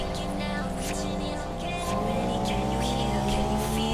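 Tuned Toyota MR2 inline-four engine in the racing game TXR3, a steady loud drone with rising harmonics as it revs and accelerates, continuous throughout with faint background game sounds.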